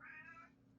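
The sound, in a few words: hoarse cat meowing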